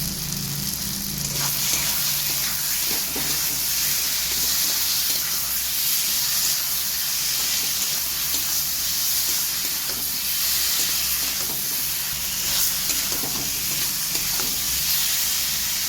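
Rohu fish curry sautés in a pan, with a loud, continuous sizzle and hiss and the scrape of stirring running throughout, and no voices.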